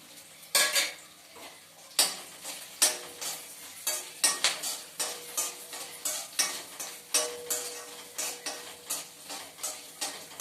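Coriander and coconut stirred with onions in a frying pan for a rajma masala, with steady rhythmic scraping and clinking of a spoon against the pan over a faint sizzle, close and fairly loud, no talk.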